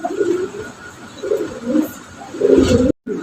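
Low, throaty coos of Modena pigeons repeat in soft bursts close by, with a faint background hiss and a brief cutout near the end.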